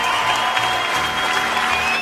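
A crowd at the CrossFit Games claps and cheers in a dense, continuous wash of applause with scattered whoops, heard from within the arena and fading slightly at the end.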